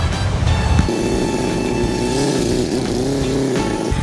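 A tuned vintage motorcycle engine revs hard in a steady, loud drone, with the pitch rising and falling through repeated throttle blips close by.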